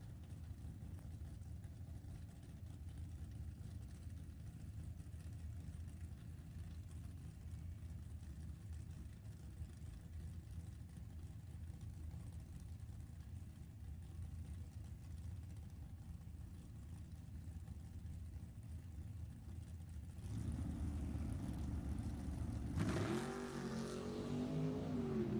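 Drag race cars, an El Camino and a Camaro, idle and rumble at a race club strip, a steady low engine drone that turns into louder revving and a rising launch near the end.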